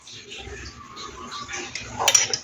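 A spoon stirs ghee into a grape sweet mixture in a pan, giving soft, steady scraping that ends in a brief, sharper metallic clatter.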